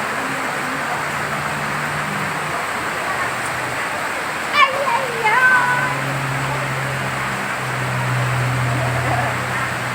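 A steady broadband rush of water runs throughout, with a low engine-like hum and a few brief sharp noises midway.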